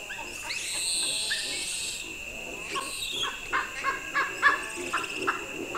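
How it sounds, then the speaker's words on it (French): Hippopotamus calling at night from a river in Senegal, a series of rising and falling honking grunts that grow louder toward the end, heard at a distance over a constant high drone of insects and frogs. "Là, ce que vous entendez, c'est un hippopotame."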